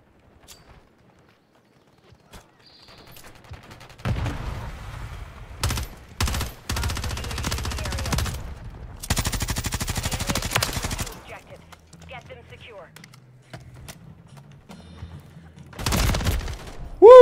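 Bursts of Bruin machine-gun fire in a video game, several rapid rattling volleys separated by pauses, loud and close, with occasional voice chatter between.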